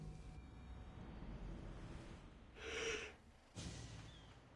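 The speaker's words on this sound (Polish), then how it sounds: "I tak teraz znowu musiałem ziewnąć." A man yawns, drawing a loud, breathy gasp of air in close to the microphone, followed by a shorter exhale against quiet background noise.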